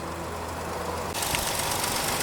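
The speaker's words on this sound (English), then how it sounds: "Check the oil level with the engine running and the transmission hot" A Nissan NV200 van's engine idling close by with the transmission hot, a steady low rumble that turns brighter and noisier halfway through, no voices.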